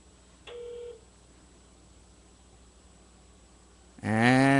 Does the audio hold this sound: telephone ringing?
yes